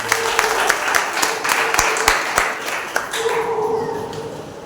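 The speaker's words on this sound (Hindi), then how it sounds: "आइए हम उस पवित्र परमेश्वर के लिए एक बार जोरदार तालियां दें।" Church congregation applauding during a Sunday service, a dense run of hand claps with sharp individual slaps standing out, loud and close, fading slightly toward the end.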